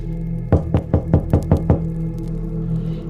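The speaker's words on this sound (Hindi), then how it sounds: "तभी फिर से किसी ने दरवाजा खटखटाया" Seven firm knocks on a door in a quick, even run, loud and close, followed by a low hum and quiet.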